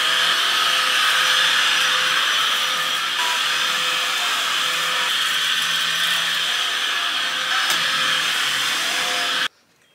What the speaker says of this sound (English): That vacuum that I was using, its battery's almost dead, even though it's been on charge for ages.